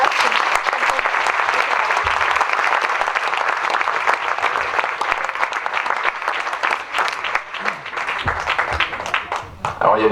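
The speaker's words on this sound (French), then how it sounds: "Donc on compte sur vous pour applaudir chaleureusement Nicolas." Audience at a French civic reception honouring local athletes gives a sustained, dense round of applause lasting the full stretch, with scattered voices mixed in and a slight dip near the end.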